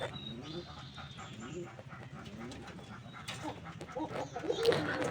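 Pigeons at a new loft on an office rooftop, soft cooing and low murmuring sounds running steadily throughout alongside faint background movement and some brighter rustles near the end.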